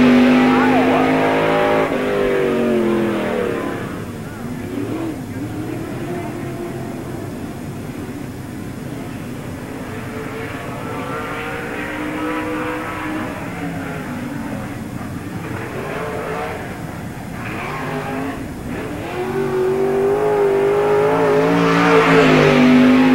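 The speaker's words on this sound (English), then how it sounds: "This is Tom Cannon on the track now, car number 32." Car number 32 runs a qualifying lap at Tri City Speedway during a 1997 NASCAR Busch All Star Tour event. A steady, loud engine drone shifts in pitch as the car circles the track, with a public-address announcer talking over it throughout.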